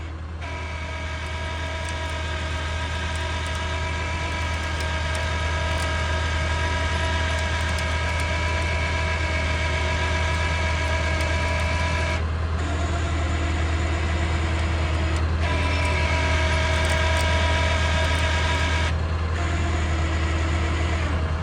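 An off-road vehicle's engine idles steadily with a low, even drone and faint harmonic whine, rising slightly under a light touch of throttle during a trail recovery, heard close with no talk.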